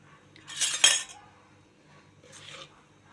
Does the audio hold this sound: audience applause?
no